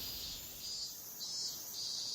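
Cicadas sing loudly along the old Seoul fortress wall trail near Naksan, a steady dense high buzz that fills the whole stretch without pause, with no voices over it.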